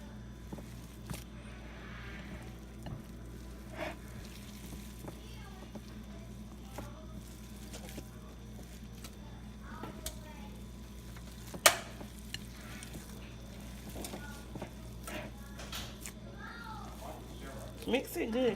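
A meatloaf mixture is worked by hand in a bowl, giving soft, steady squishing and stirring under faint background hum, with occasional knocks and a brief sharper clack.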